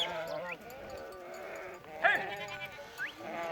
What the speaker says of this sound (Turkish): Koyunlarımız Şiran yaylalarına gidiyor.